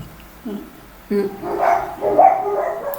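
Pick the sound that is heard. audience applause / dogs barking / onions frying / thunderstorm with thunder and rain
dogs barking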